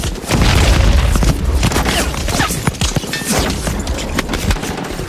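War-film battle scene from Saving Private Ryan with repeated booming explosions, crashes and scattered gunfire, dense and loud throughout with sharp impacts over rumbling debris.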